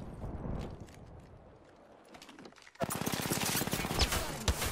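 Gunfire in a video game starts as sparse scattered shots, then breaks into a loud, dense burst of rapid automatic fire that continues steadily to the end.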